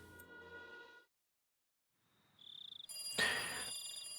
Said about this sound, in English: I finally realized that the phone was ringing